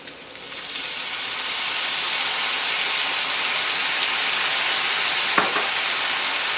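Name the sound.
soy sauce sizzling in hot pan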